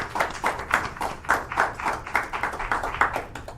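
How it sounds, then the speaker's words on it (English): Rhythmic clapping from a modest audience at a local evening talk show, roughly a dozen evenly spaced claps in a steady beat, moderately loud and close. "can we have a round of applause,"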